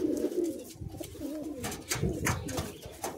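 Madrasi pigeons cooing up close, a run of soft throaty rolling coos repeating in quick succession with a few faint flutters between them.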